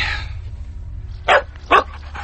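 A dog in an audio drama gives two sharp, close barks and then a softer third, heard alone over a quiet low hum after a brief burst of other sound.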